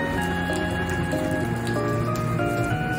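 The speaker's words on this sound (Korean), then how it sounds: "비가 그래도 많이 잦아든 게 이 정도라서" Rain falls steadily with dense pattering and ticking drops on nearby surfaces, a continuous close wash of sound with no talking.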